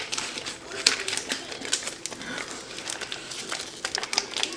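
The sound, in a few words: chocolate bar wrapper being torn open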